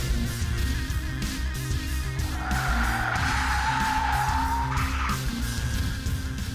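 Car tyres squeal under aggressive acceleration and braking, a loud rising screech over a steady engine roar, peaking mid-clip and then cutting out.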